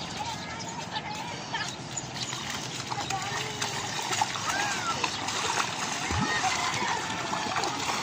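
Splashing in a river or pool during a group swim in Bulusan, Sorsogon, a continuous wash of churning water with people talking and calling out over it.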